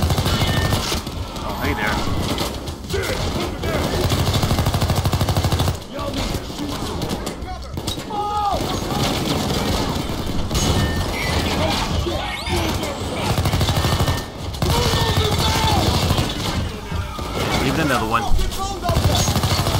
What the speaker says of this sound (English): That's a fun gun.